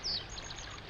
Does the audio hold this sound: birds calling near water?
yes